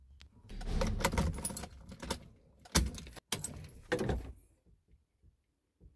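Car keys jangle near the start of a 1992 Honda EG that has an ECU fault and struggles to start, with rustling, clunks and a sharp knock before the sound thins out into faint ticks.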